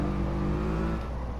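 A car engine in Gran Turismo 7 holds a steady, loud revving drone with strong low harmonics, then eases off as the throttle lifts partway through, continuing as a lower hum.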